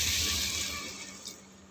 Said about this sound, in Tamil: இதில் தண்ணி ஊற்றிக்கோங்க